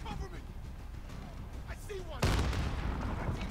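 A grenade explodes in the Modern Warfare campaign, a sudden heavy boom partway through that leaves a loud rumbling wash, after quieter game sounds and talking.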